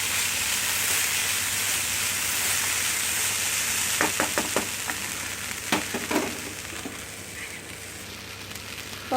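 Cooked green gram is stirred with salt in a hot frying pan, a steady sizzle and hiss throughout, with a cluster of sharp scraping and clinking strokes from the spoon in the middle section.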